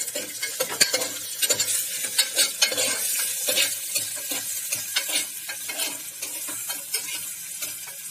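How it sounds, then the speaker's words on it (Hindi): Chicken mince being stirred in a hot pan for a dum chicken keema, with steady sizzling frying and repeated scraping of the spoon against the pan, close and fairly loud, no talking. "मिक्स कर देंगे इसको।"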